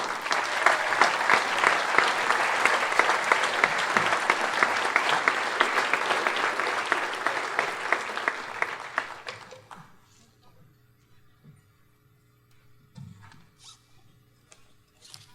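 Audience at a college commencement ceremony applauding: dense, loud clapping from a large crowd for about nine seconds, then fading to quiet with a few scattered sounds.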